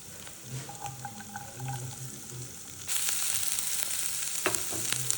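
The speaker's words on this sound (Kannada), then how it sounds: "ಎಣ್ಣೆ ಬಿಸಿಯಾಗಿದೆ. ಜಿಂಜರ್ ಗಾರ್ಲಿಕ್ ಪೇಸ್ಟ್ ಹಾಕ್ತಾಯಿದ್ದೀನಿ ಮತ್ತು ಹಸಿಮೆಣ್ಸಿನ್ಕಾಯಿ ಹಾಕ್ತಾಯಿದ್ದೀನಿ" Ginger garlic paste and chopped green chillies are dropped into hot oil. A quiet hiss and light scraping suddenly burst into a loud, steady, close-up sizzle that continues to the end.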